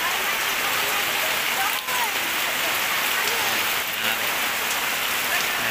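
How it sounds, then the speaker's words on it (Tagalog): Heavy rain pours steadily during a pigeon race, a dense, even hiss of drops hitting surfaces that fills the whole clip, loud and close with no pauses. "malakas ang ulan"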